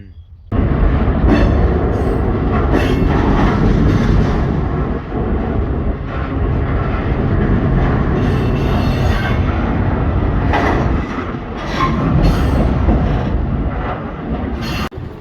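Loud, continuous roar of a freight train rolling at speed, close-up from a rider on the deck, with rumbling wheels, clanks, squeals and steady wind noise throughout.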